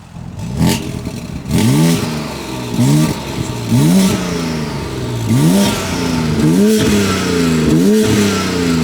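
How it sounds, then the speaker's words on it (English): A BMW X3M's twin-turbo inline six with upgraded turbos is revved with its exhaust valves closed, giving a series of about six or seven sharp, rising blips that drop back to a steady idle between them. No one talks. "now Cyryl is going to rev up his car. This is valves closed"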